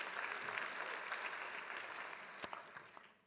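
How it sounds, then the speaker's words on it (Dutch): Warm applause from a conference audience welcoming a speaker at a psychiatry congress, a fairly quiet, steady patter of many hands that fades out over a few seconds. "Geef hem ook een warm applaus"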